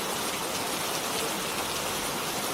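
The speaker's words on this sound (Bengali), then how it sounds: "যা বৃষ্টি শুরু হয়েছে" Steady rain pouring down, a dense even hiss of drops hitting surfaces all around, continuous and fairly loud with no voices.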